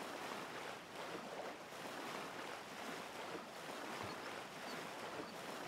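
Characters swimming in water in the video game Kenshi, a steady rushing, wave-like wash of water that stays constant and fairly close throughout, with no talking.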